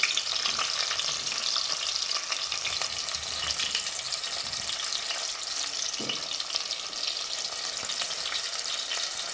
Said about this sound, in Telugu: ముందుగా కట్ చేసి పెట్టుకున్నటువంటి ఉల్లిపాయలు వేసుకోవాలి